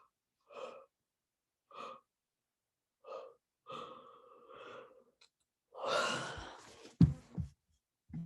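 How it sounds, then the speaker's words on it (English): A person breathes in deeply during a guided relaxation session: several soft, evenly spaced breaths, then a longer drawn inhale and a louder exhaling sigh, close and quiet with silence between. "Go ahead and breathe it in."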